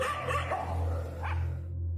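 Dogs bark as a sound effect in a narrated Spanish-language horror story: a few barks and yips over a low steady drone, moderately loud, then fading out.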